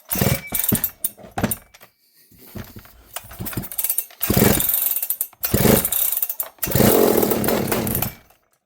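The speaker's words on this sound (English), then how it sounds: "It fired right up." A 72cc chainsaw is pull-started, catching after a few rough, choppy bursts and then running loudly in sustained revving stretches close by, with no talk.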